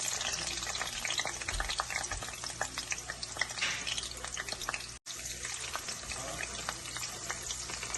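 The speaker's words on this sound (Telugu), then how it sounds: "ఇప్పుడు నేను ఇందులో పచ్చిమిరపకాయలు వేస్తున్నాను చూడండి." Green chillies frying in hot oil, a steady dense sizzle and crackle with scattered pops, close and continuous apart from a momentary cut.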